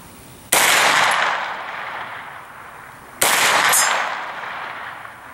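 Two loud, sharp rifle shots from an AR-9 pistol-caliber carbine at an outdoor range with a 100-yard target, each crack followed by a long decaying echo, spaced about three seconds apart.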